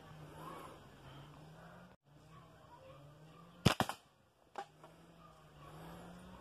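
A homemade slingshot fires its first shot: one sharp, loud snap partway through, followed by a smaller knock a moment later over a low steady hum.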